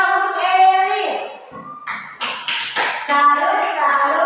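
Children in an early-grade primary school social studies class clap a patterned tepuk salut cheer, a few short sharp bursts of claps between chanted voices, close and fairly loud.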